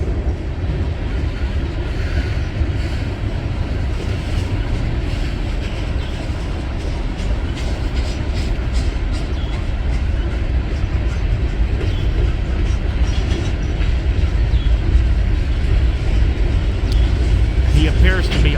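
Norfolk Southern coal train heading southbound passes close by in a steady, loud rumble of rolling wagons and wheel noise that holds for the whole stretch.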